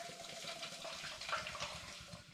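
Fizzy lemon drink poured into a pan, a steady splashing, fizzing stream of liquid heard close up and fairly quiet, continuous throughout.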